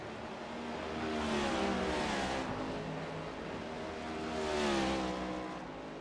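NASCAR Next Gen race cars lap Watkins Glen in the iRacing video game, engines droning and revving in two swelling passes with a steady high-pitched whine.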